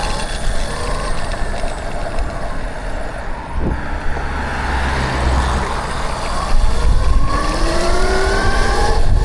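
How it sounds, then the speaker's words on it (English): A car passes on a road near a McDonald's, its engine and tire noise rising and fading against steady traffic rumble, loud and close, with no one talking. "Wait for this car."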